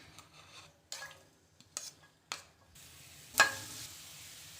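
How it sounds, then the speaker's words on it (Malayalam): Chopped ginger and garlic hit hot oil in a pan, a quiet sizzle with a few soft clatters of utensil against the pan and one sharper clink near the end. "ഇഞ്ചി വെളുത്തുള്ളി കട്ട് ചെയ്ത് വെച്ചിരിക്കുന്നത് ഇട്ട് കൊടുക്കാം"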